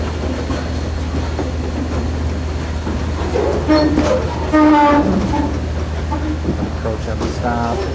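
A locomotive pushes a train at slow speed, its low diesel rumble steady and near, with brief horn-like tones rising in the middle of the clip.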